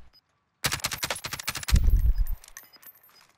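A rapid burst of automatic gunfire rips out in a video game, around a dozen sharp shots in quick succession followed by a heavier thump and fading clatter, loud and close.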